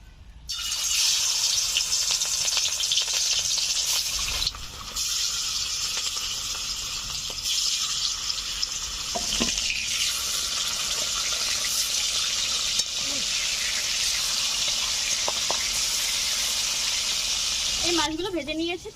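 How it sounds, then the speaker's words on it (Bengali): Rita fish fry in hot oil with a loud, bright hissing sizzle that holds steady for long stretches, dipping briefly and surging again. Scattered pops come through, and a short voice is heard near the end. "তেল গরম হয়ে গেছে, মাছগুলো ভেজে নিচ্ছি।"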